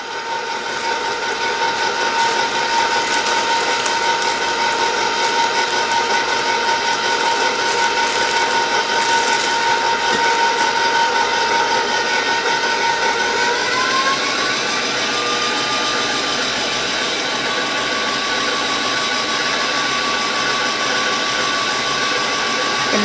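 A KitchenAid stand mixer runs at medium speed, giving a steady, loud motor whine with a mechanical rattle that carries on unbroken and shifts slightly in pitch partway through.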